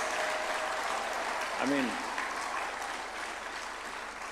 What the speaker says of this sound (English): Can we a round of applause for this?